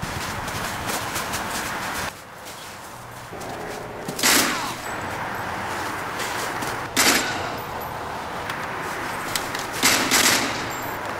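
Rapid bursts of automatic gunfire crackle through the Mercenaries 2 video game, sustained rattling with louder volleys every few seconds over a constant battle din.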